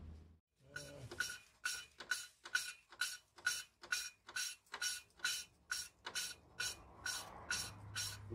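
An engine valve seat is sanded by hand with sandpaper in a rapid, regular series of about a dozen close, crisp rasping strokes, each one a short scratchy burst.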